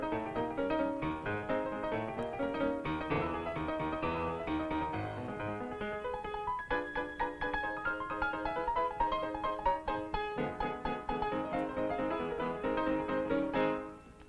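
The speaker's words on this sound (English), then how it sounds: "one of the great ones. In fact, the first one that ever appeared, which is called the Maple Leaf Rag" Maple Leaf Rag, a ragtime piece, played on piano in a lively, steady march-like rhythm with a bouncing bass under syncopated melody, loud and continuous throughout with no voices.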